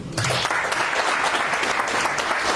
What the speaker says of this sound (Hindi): जोरदार तालियां आप लोग